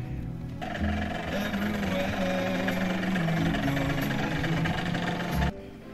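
Christmas-decorated motor scooter on a test ride, its small engine running with a steady rattling, chugging drone for several seconds before cutting off abruptly near the end.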